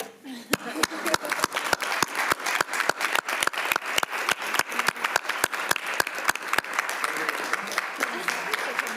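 Audience at an education policy committee hearing claps in steady, unison rhythm, about three sharp claps per second, continuing for several seconds over a faint murmur.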